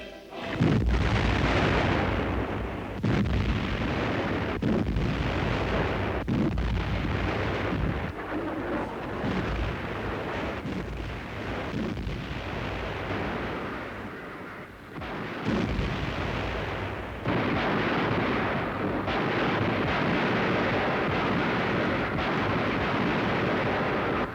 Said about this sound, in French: la drôle de guerre continue, ponctuée par les duels d'artillerie